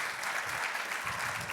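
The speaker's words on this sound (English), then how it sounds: "Let's give her a round of applause." An audience applauds at a university event, a soft, steady patter of many hands heard from a distance with no voices on top.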